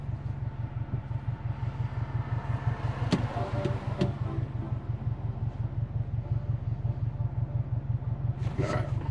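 Subaru boxer engine rumbling while downshifting through second gear, a steady pulsing low throb close by with a couple of brief sharper bursts over it, no talking.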